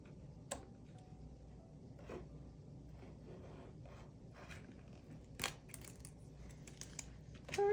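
A craft knife trims along the edge of a winter gift tray, giving faint sparse ticks and scrapes with a few sharper cuts, close and quiet.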